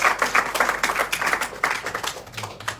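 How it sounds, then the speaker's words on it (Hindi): A group claps hands together during a Hare Krishna devotional house program, a dense run of overlapping claps at a steady rhythm, fairly loud and close, with no talk over it. "और ताली तो बजा दो।"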